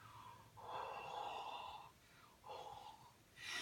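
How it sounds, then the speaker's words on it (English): Someone huffs warm breath onto a rubber-stamped image, giving several long, soft exhalations with short pauses between them, close up and quiet, with no talking. "it's just huffing on it is all you're doing"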